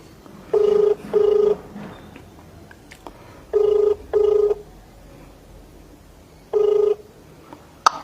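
A telephone rings back on an outgoing call, with three evenly spaced double-burst rings separated by quiet gaps. The tone is clear and fairly loud, with no voices.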